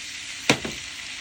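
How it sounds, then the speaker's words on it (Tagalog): Potatoes fry in a pan with a steady hissing sizzle, broken by one sharp clink of a utensil against the pan. "So guys, ang ginagawa ko, fina-fry ko yung potato."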